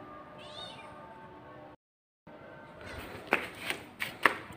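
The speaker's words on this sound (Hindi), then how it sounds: "ये देखो म्याऊं म्याऊं इनका जारी है" A cat indoors early on a foggy morning gives a short, high meow near the start. After a brief silence come soft rustling and a few sharp clicks and taps.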